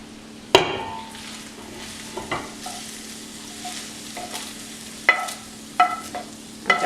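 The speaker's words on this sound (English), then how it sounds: "Just gonna go ahead now, add my beef mixture." Beef mixture going into a chili pot seasoned with maple syrup and cinnamon, giving a soft low sizzle under several sharp scraping stirs and clanks of a utensil against the pot, close and alone without voices.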